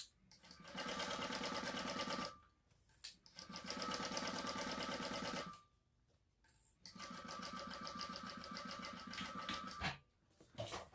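A sewing machine top stitches the folded edge of fabric for a retro style sling bag at about a quarter-inch seam, running in three steady bursts of rapid even stitching separated by short pauses.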